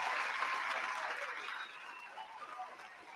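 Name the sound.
applause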